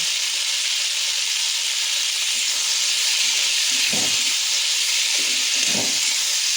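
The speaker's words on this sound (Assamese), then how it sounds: "অকণমান দেৰি ভাজি থাকোঁ অকণমান ভজা ভজা হওক" Fish frying in a pan with salt and turmeric gives a constant loud hissing sizzle, broad and even, with a couple of soft knocks of the pan, no one speaking.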